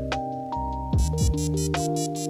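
Checkmate alarm tone from a first-generation iPod Touch: a bright synthesized electronic melody of stacked tonal notes with quick descending swoops and a rapid pulsing rhythm, steady and fairly loud, with no talking.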